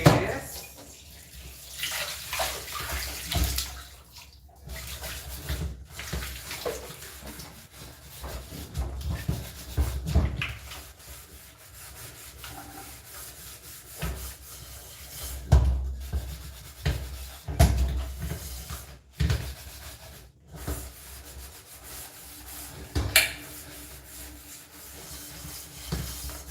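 A sufuria cooking pot being washed with water in a home kitchen: running water, splashing and rubbing scrubs continue throughout, with irregular clanks and bumps of the metal pot, moderately close.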